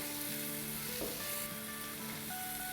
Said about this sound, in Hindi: बस इसे हम अराउंड 1 मिनट सॉटे करेंगे।